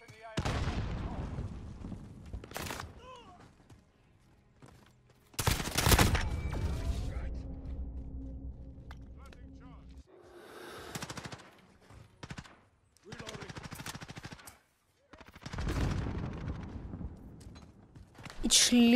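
Sharp, loud single shots from an M4A1 sniper rifle in a video game, several cracks spaced unevenly with echoing tails and quieter mechanical handling sounds between them, while a voice talks over parts of it.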